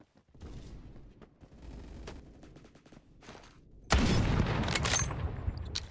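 Gunfire in the Phantom Forces video game, a few scattered shots at first, then a sudden loud burst of rapid automatic fire that keeps going dense and close to the end.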